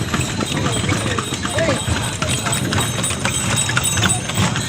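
Hooves of a horse pulling a cart clip-clop steadily along a road near a temple town, set against dense traffic and street noise, with people talking over it.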